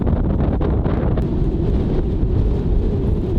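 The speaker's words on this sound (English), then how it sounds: "it's been hot and windy. Wind has been unreal." Strong, steady wind buffets the microphone with a loud, continuous low roar and gusty rumble, no voices.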